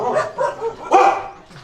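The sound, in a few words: dog barking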